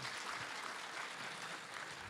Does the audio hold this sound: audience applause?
yes